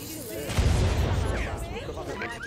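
A deep cannon boom rumbles out as a game sound effect, followed by a spread of lower crackling noise while voices talk over it.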